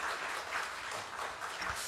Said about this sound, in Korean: 우리 환영의 박수 한번 좀 쳐주시기를 바랍니다